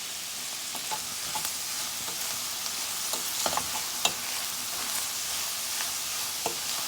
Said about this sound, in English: The onions are really caramelizing nicely, and the fragrance from the garlic and the thyme is really infusing together